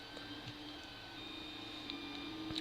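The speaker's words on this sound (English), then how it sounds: "So it'll follow this path and print it out and extrude it as it goes" A 3D printer extruding as it follows its print path: faint, steady whirring and whining stepper motors with soft ticks and small chirps throughout, no voices.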